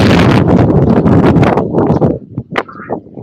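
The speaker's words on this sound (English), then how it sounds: "it's pretty windy over there" Strong wind gusts outdoors near the woods, a loud broadband rush buffeting the microphone for about two seconds before dropping away into quieter, scattered rustles and small knocks.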